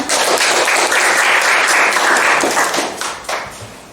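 A classroom gives a student sustained applause after her presentation on the planet Jupiter, a dense wash of many hands clapping loudly for about three seconds before thinning out.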